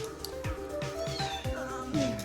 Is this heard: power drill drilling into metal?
no